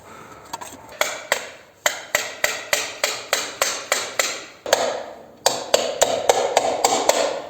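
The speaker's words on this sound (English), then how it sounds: "I just used this to kind of hammer it in from this side" Hammering on a Belarus MTZ-52 tractor's oil pan area: a quick, even series of sharp metal blows, around a dozen strikes, a brief pause, then another steady run of hits, close and loud.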